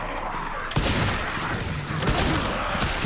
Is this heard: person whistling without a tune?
no